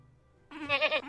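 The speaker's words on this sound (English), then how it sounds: "this goat is too old" A single goat bleat from the video game TerraFirmaCraft, a wavering nasal call that begins abruptly after a quiet moment and lasts about half a second, clear and close.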